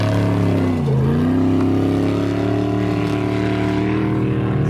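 An Ultra 4 off-road race truck with an LSX engine roars steadily through dirt in a grueling off-road race, a loud, close, continuous engine drone with a brief dip and rise in pitch and no talking.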